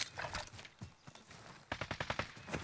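Gunfire in the Modern Warfare Warzone video game from a pink Kilo rifle: a first run of shots, then a fast, loud string of rapid bursts with sharp, regular cracks close by.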